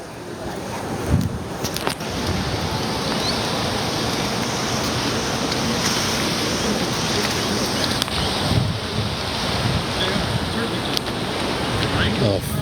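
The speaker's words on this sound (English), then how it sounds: "that tide come rolling in and that water come in" Tide and waves roll steadily onto the shore with a continuous, loud wash of surf and wind, with no voices present.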